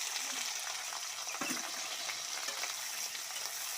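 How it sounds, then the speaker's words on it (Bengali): Chopped onions frying in hot oil in a pan, a steady close sizzle with crackling spatter that holds at an even level throughout, with no talking. "তেলটা গরম হয়ে গেছে পেঁয়াজ কুচিগুলো দিয়ে দিচ্ছি"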